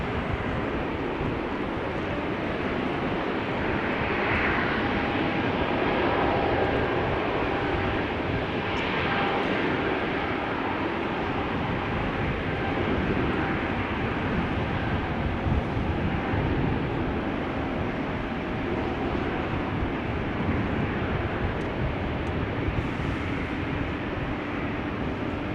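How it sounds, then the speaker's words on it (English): Jet engines of a KLM Boeing 777-300 spool up at rainy Amsterdam Schiphol Airport, a loud steady broadband roar holding without a break throughout, with no voices. "That means something is happening in the engines."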